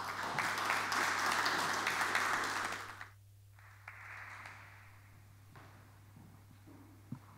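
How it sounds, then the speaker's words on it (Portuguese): Audience applause at a Portuguese conference event rings out fairly loud for about three seconds, then dies away quickly to a near-quiet room with a steady low hum and a few scattered knocks. "Álvaro, por favor, um aplauso."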